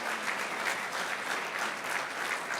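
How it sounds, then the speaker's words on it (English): Audience at an award dinner auction applauds, steady sustained clapping from a crowd filling the room at even loudness, no talk over it. "Keep that applause going for these guys."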